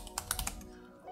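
Quick keystrokes on a computer keyboard, about five crisp close clicks in a short burst, then quiet.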